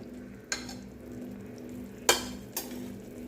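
A pot of bottle gourd curry simmers with a low bubble throughout, broken by three sharp scraping clacks of a spoon stirring against the pot.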